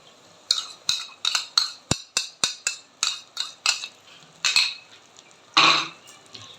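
A spoon scrapes and clinks against a pan in a quick irregular rhythm as beaten eggs are stirred into semolina halwa, close and clear with brief pauses and no talking.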